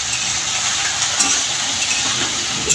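Shrimp frying in a pan, giving a steady, even sizzling hiss close by with a few faint crackles and no talking.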